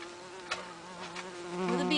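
A bee buzzes close by inside a greenhouse of petunias and tomato plants, a steady droning hum that swells and grows louder toward the end.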